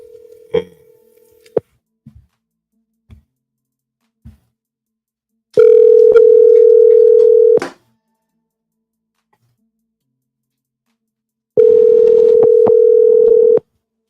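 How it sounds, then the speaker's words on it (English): A telephone dial tone heard while placing a call: a steady mid-pitched tone sounds in two separate stretches of about two seconds each, with a few short clicks before them and silence in between. "Let me make one quick phone call here"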